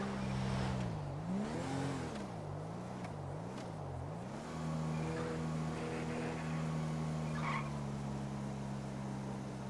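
A fast car in a GTA LSPDFR police patrol game, its engine tone wavering up and down as it revs, then settling into a steady high drone with faint tyre noise.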